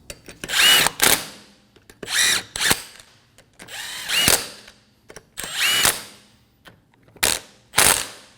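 A power tool snugs down wheel lug nuts on a 2014-2018 Subaru Forester, about six loud, close whirring bursts, each ramping up then stopping, separated by short pauses.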